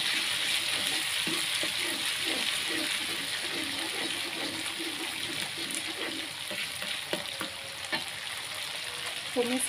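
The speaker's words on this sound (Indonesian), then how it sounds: "Ini udah panas, kita masukkan bumbu yang sudah kita haluskan." Ground balado spice paste hits hot oil in a pan, giving a steady close sizzle that runs throughout, with light scraping and stirring knocks and a few small clicks near the end.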